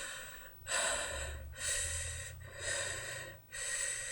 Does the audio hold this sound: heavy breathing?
yes